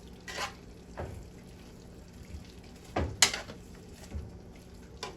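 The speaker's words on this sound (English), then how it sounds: "give those a whisk around in the sauce, in the meat, to make sure that it gets all those good flavors" Meat gets whisked around in sauce in a pan for pepper steak (carne guisada), with several separate scraping strokes and soft sloshes, each quiet and close.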